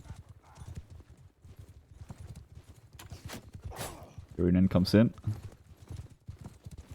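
Cavalry horse hooves in a medieval battle video game, quick repeated clip-clop strikes throughout, with a horse whinny in the middle and a commentator talking over the top.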